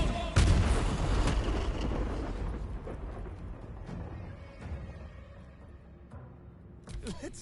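An explosion spell detonates in the fantasy role-playing game Baldur's Gate 3, with a heavy, booming blast that hits hard at the start and then rumbles and crackles away for several seconds before a few sharper bursts near the end.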